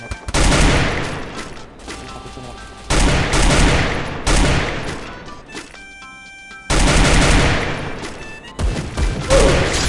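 Rapid bursts of gunfire in a shooter video game, with loud automatic volleys breaking off into short pauses and then starting again, close and harsh.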